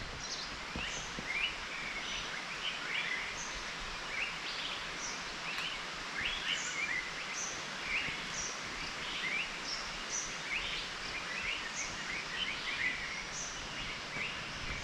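Forest birds chirp and call repeatedly at a distance over a quiet, rustling outdoor background, the short tweets coming in scattered bursts.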